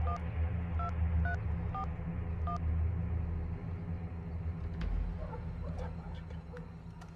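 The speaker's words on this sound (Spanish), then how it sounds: "Ahorita le marco el celular." A cell phone being dialed, heard as a quick series of short electronic keypad tones, about five beeps, over a low rumble like a car interior. Faint clicks and movement follow afterward.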